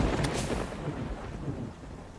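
Rain and thunder in Terraria, a brief burst of rumbling thunder over steady rainfall, loud at first and easing slightly toward the end.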